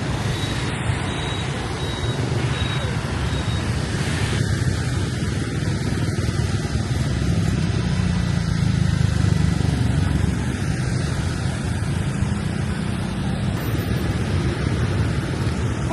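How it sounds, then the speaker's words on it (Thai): Steady roar of motorcycle and street traffic in Hanoi near the lake by Tran Quoc Pagoda, a continuous dense engine wash with no break and a faint high beep now and then. "ได้ยินเสียงรถ"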